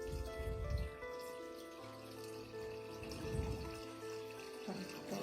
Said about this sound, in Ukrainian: Буряк. Заливаємо Водою.